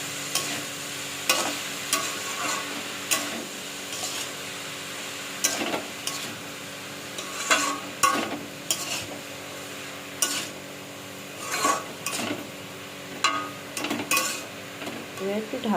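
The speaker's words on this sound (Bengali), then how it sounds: "আপনারা দেখুন আমি কীভাবে বাঁধাকপিটা বানাচ্ছি।" Cabbage with potatoes and spices is stirred in a frying pan, a soft steady sizzle under repeated scraping and clinking strokes of a utensil against the pan, arriving in irregular bursts every second or two.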